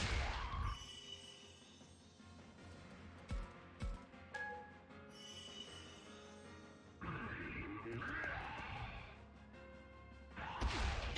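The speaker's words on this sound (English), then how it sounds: "we're going to attack with Saint Knuckle" Saint Knuckle attack in the Digimon Survive video game, a burst of heavy smashing impacts and thuds with whooshing effects and a couple of sharp hits, loud and close over game music.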